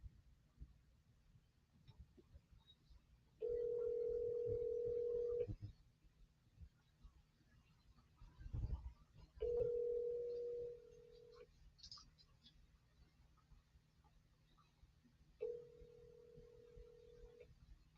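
Ringback tones from a telephone call placed to a real estate agent: three long, steady beeps separated by pauses of several seconds, clear and close over a quiet line, with a soft thump in between.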